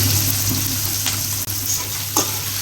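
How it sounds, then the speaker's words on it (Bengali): Chopped onion frying in oil in a pan for a home-cooked fish curry, a steady broadband sizzle running throughout at close range with a low hum underneath and a couple of faint stirring clinks. "পেঁয়াজ একদম ব্রাউন করে ভেজে নেব"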